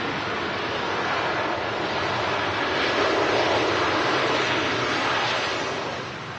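An airliner taxis on the runway at Manchester Airport, heard as a broad steady roar with wind rush that swells slightly and then eases off at the end, with no voices.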